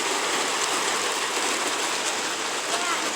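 Rain falls during a concrete pour while the fresh slab is being troweled, a steady even hiss of drops on the surfaces nearby, constant and fairly loud throughout with no talking.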